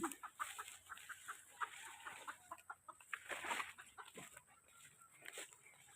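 Rhode Island Red chickens clucking faintly at a distance, a steady scatter of soft clucks and short calls over a hissing farmyard background.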